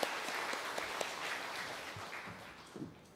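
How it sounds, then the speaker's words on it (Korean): A church congregation claps to welcome newly registered member couples, a soft, even patter of applause that sounds somewhat distant and fades slightly toward the end. "우리 박수로 환영합니다"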